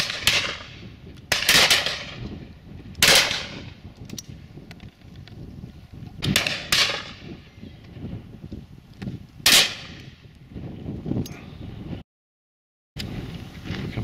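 Shotguns fire at a pheasant and partridge shoot, about eight loud, close bangs spaced a second or more apart, some in quick pairs, over strong outdoor wind rumble.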